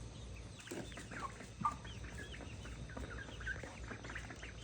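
Backyard chickens cluck and chatter in a new coop they share with ducks, a busy overlapping stream of soft calls at moderate, close range over a steady low hum, with no talking.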